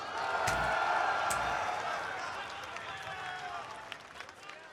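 Crowd at an EVO fighting game tournament watch party cheering and applauding: a broad roar of voices and clapping swells loudly at the start, then gradually fades into lighter scattered applause and murmur.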